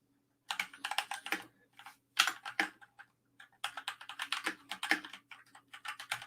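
Keyboard typing on a setup tied to an e-ink tablet: bursts of rapid, close key clacks in uneven runs, separated by short pauses, alone and fairly quiet.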